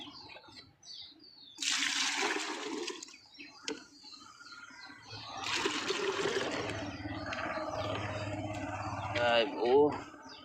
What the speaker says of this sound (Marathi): आता दोन्ही पाणी मला मिक्स करावं लागते.